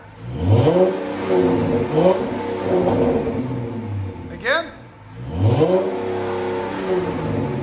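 A 2010 Dodge Challenger 3.6L V6 with Flowmaster Super 44 exhaust revs up and settles in repeated bursts, loud and close, with a deep throaty exhaust rumble; a person speaks briefly between revs.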